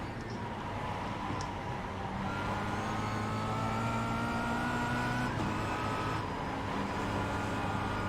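Race cars in the iRacing simulator, with a steady engine drone from the player's car and other faster Cadillac prototypes sweeping past, the engine pitch shifting as they go by, with no talk.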